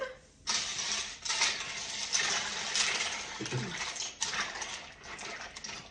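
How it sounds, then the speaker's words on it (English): Chicken pasta for Merry Me chicken pasta being stirred through its cooking liquid in a pot, a steady wet sloshing and swishing that runs continuously for several seconds, close and fairly loud, with no talking. "we're just going to give that a wee stir"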